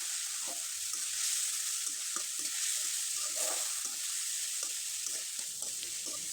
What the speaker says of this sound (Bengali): পেঁয়াজ কুচি, রসুন কুচি এবং মরিচ কুচি, আদার কুচি দিয়ে খুব ভালোভাবে একটু নেড়েচেড়ে নিব